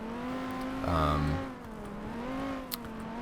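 A car in Garry's Mod fitted with hydraulic suspension drives along with a steady, tonal engine drone whose pitch rises and dips, one short swell near the start and a small knock near the end, with no speech.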